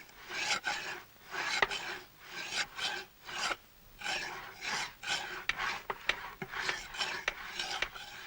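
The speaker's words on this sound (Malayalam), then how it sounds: "തേച്ച് ഉളി തീരാറായി" A wood chisel is rubbed back and forth on a sharpening stone, giving a steady run of roughly fourteen gritty rasping strokes in an even rhythm, close and clear with no talk.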